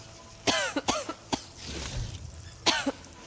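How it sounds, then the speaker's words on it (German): A character coughs in the video game Horizon Forbidden West, several sharp, harsh coughs in two close bursts, clear and near with a quiet pause between them. "Ja, hör auf zu husten."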